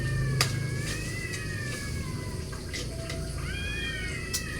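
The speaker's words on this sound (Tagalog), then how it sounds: "Ang dami pusa." Several cats meow repeatedly in a rural kitchen while sardines are sautéed, their rising and falling calls recurring over steady background noise and faint running water.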